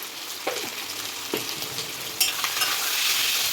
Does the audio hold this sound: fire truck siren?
no